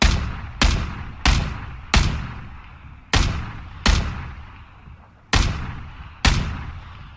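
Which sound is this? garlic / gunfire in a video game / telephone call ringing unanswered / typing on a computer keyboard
gunfire in a video game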